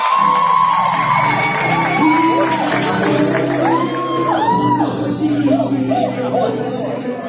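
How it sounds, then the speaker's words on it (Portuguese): A church congregation at a baptism service cheers and whoops loudly, with shouting voices and some rising calls over a steady crowd din, while light applause stays buried beneath the noise for the whole stretch. "Uma salva de palmas para a Brenda"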